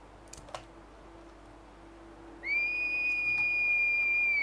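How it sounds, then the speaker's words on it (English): A horse whistle in Skyrim Dawnguard sounds as a sustained clear whistle tone starting about halfway through, loud and steady, after a few faint clicks. "Oh, I've got my horse whistle."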